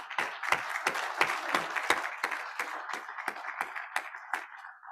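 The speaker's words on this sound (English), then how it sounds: "how about a quick round of applause for everybody here?" Audience applause at a hybrid meeting, a steady patter of many hands clapping with sharp individual claps standing out, moderately loud and with no talk over it.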